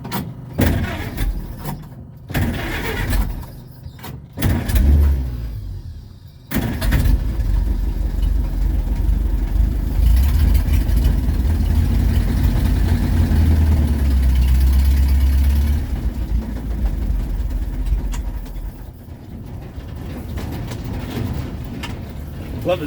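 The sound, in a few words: 1926 Chrysler car engine running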